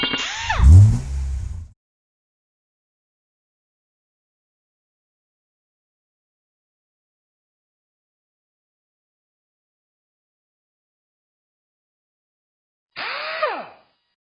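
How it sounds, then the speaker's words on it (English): A T55 bit loosening the caliper slide bolts on a 2003 Chevy Tahoe: two short, whirring bursts with a rising then falling pitch, separated by a long stretch of silence. "So I have a T55. I'm going to loosen up the caliper slide bolts."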